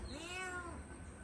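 A pregnant cat lets out a single drawn-out meow, clear but quiet and close, with no voices around it.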